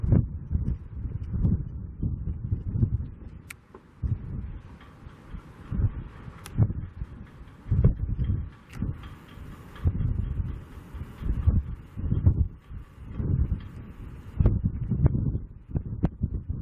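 Outdoors at a Las Vegas construction site, strong wind batters the microphone in a continuous low roar punctuated by uneven thumping gusts, with no one talking.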